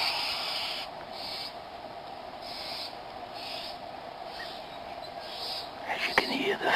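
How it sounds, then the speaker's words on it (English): A male bowerbird squawks at a newly arrived female, the calls coming in regular repeated bursts over steady outdoor ambience, with a louder rustle near the end. "Here's a male running up with a piece of offering for the female. You can hear him squawking differently."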